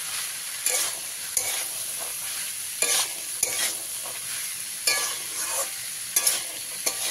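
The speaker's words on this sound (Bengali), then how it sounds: "দিয়ে এবার সব কিছুকে খুব ভালো করে মিশিয়ে দেবো।" A spoon scrapes and stirs a fried chana and peanut mixture in a pan, with repeated close scraping strokes over a faint steady sizzle and no talking.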